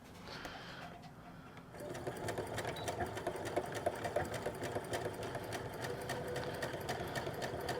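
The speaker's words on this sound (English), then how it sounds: "So backstitch a little bit up here at the top and then also down here at the tip." Sewing machine stitching a dart in a simple A-line skirt, a fast steady mechanical whir with rapid needle clatter that picks up after a brief quieter start and runs continuously, close and alone.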